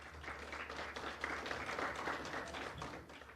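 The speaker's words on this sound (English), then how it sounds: "If you want to give them a round of applause real quick." A live audience at a talk on downsizing gives a quick round of applause, a steady wash of clapping at moderate, somewhat distant level with a low hum beneath, lasting the whole stretch.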